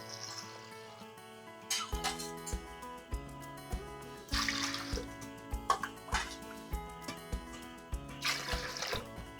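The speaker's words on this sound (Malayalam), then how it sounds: "ഇനി ഇത് വേകാൻ വേണ്ടിയിട്ട് ഒരു 3 കപ്പ് വെള്ളം കൂടി ഒഴിച്ചു കൊടുക്കാം." Water poured into lentils in a cooking pot for Kerala-style katti parippu, a series of splashing, trickling bursts with drips, close and fairly clear.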